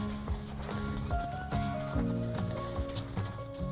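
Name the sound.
horse moving around on the lunge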